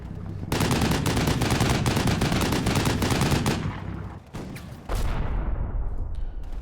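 Rapid machine-gun bursts rattle loudly against a tank destroyer in a Combat Mission battle, dense continuous gunfire that briefly drops off before another burst and rumbling shots follow.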